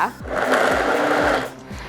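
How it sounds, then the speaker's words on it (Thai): A hand blender whirs through taro tart filling with a loud, steady motor drone and rhythmic churning pulses, close up, with a voice speaking faintly under it. "เราก็จะปั่นค่ะให้ทุกอย่างเนี่ย ละเอียดเข้ากันเลยนะคะ"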